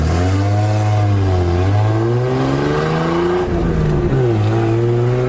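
A Toyota Land Cruiser engine revs loudly from inside the cabin, its pitch rising and falling in repeated surges with a brief dip before climbing again.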